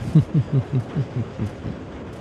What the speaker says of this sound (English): The ominous train sounds during the loading